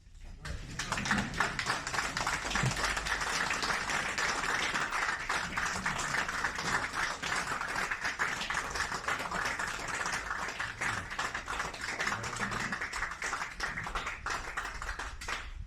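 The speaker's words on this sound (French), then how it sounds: "je propose juste qu'on renouvelle nos applaudissements pour le bureau sortant" Members at a communal boules club general meeting give the outgoing board a standing ovation, with sustained, dense clapping from a roomful of people that carries on evenly for about fifteen seconds with scattered voices underneath.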